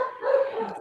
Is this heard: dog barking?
yes